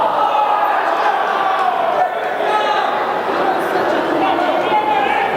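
Crowd noise from spectators at a high school wrestling match between Hudson and Menomonie, a steady dense roar of shouting and chatter that carries loudly and continuously, with a brief dip partway through.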